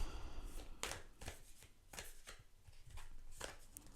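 Tarot cards being shuffled by hand: irregular crisp riffles and taps, close by and moderately loud, with no voices.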